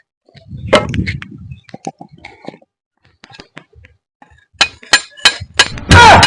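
A chisel strikes an old stone grinding slab (sil) in sharp, irregular metallic taps and clinks, close and fairly loud, with a dense burst of strikes near the end.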